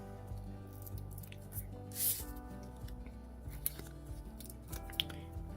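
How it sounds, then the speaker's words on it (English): Scissors snip through a piece of Stampin' Foam tape during card making. A few quiet, close cuts come in short irregular bursts, with one sharper snip partway through and soft handling noises around them. "I'm just going to cut a piece of our Stampin' Foam tape here."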